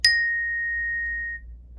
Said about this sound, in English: So here's a closer look at how we play the bells with our mallet.